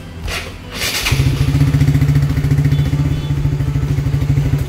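A Honda 150cc motorcycle's electric starter cranks the engine on a weak battery, starting with a couple of thuds and then settling into a steady, rapid, labored churning that continues without the engine catching.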